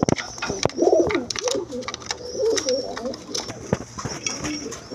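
A pair of Indian Bombay pigeons cooing close by in irregular throaty bursts, with other birds chirping faintly behind and scattered clicks and knocks.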